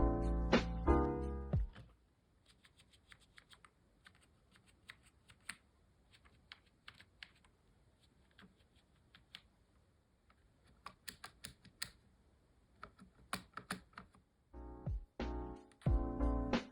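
Typing on a transparent Bondi blue 1998 Apple computer keyboard with a kickstand: close, fairly quiet key clicks in scattered bursts and runs, with a few louder thumps near the start and end and no voices.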